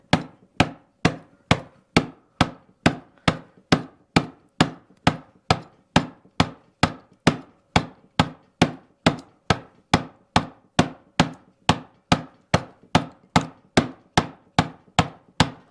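A Strongway BowlAdze 4K power-carving wood, chipping it out in a steady train of sharp, evenly spaced knocks, about two per second, close and alone throughout.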